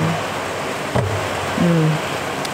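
Steady heavy rain forms a dense, loud hiss throughout, with brief low thumps and faint murmurs underneath.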